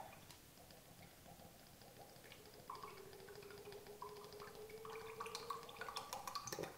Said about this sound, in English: put in the boiled linseed oil and I'm just filling it up about an equal amount.